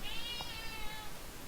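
A cat meows indoors in a single short, rising call near the start, close by and clear over a soft room hush.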